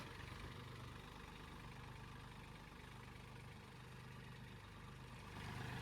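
A Kubota 2420 or Mahindra Oja farm tractor idles at about 1000 RPM, a steady low diesel chug. It runs evenly and close at hand, with no voices over it.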